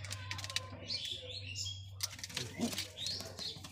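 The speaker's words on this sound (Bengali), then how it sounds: "তো এই হচ্ছে আমার সেই ম্যাদ্রাস পায়রা, যেটা আমার মানে বাচ্চা ডিম দিয়েছিল কিছুদিন আগে" Faint soft cooing and chirps from a Madras pigeon with its chicks, intermittent calls over a low steady hum, fairly quiet and close.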